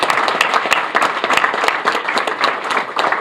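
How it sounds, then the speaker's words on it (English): Applause at a New York City mayoral media event honoring a longtime Elmhurst hospital worker: loud, sustained clapping from a room of people, close and continuous for over three seconds with no talk over it. "Let's give her another round of applause."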